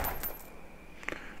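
Coins dropping as they are collected in the game My Land, a short bright metallic clink near the start and another jingle a moment later, over a quiet background.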